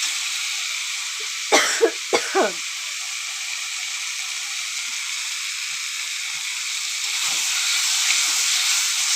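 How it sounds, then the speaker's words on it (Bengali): Two short coughs close by, triggered by pungent spice fumes from frying masala, break through a steady hiss of sizzling oil in a pan. "খুসখুস কাশি হচ্ছে।"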